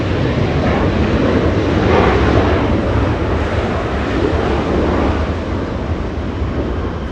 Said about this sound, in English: We have the departure Delta 1077 flying to Kona, a 737